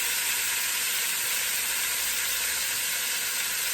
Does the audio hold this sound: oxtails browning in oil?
yes